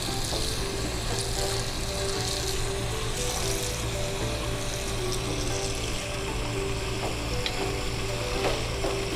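Food sizzles steadily in a frying pan as it is stirred, with a continuous loud crackle, occasional scraping clicks from the utensil, and a low hum of the stove or hood underneath.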